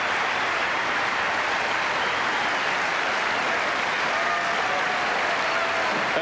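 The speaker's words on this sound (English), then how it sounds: "Appreciation from the crowd as that last point sort of fizzled." A tennis crowd at the 1998 Miami quarterfinal applauding the end of the Williams–Hingis match, a broad, steady roar of clapping from a large stadium audience, moderately distant and continuous with no talk over it.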